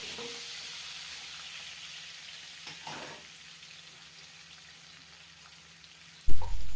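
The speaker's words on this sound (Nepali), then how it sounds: "प्याज हालेर एकछिन मस्त यसलाई हल्का हल्का फ्राई हुन दिने" Onions frying steadily in a pan for a chickpea gravy, a soft continuous hiss that runs throughout with a brief stir near the middle and a louder knock or clatter just before the end.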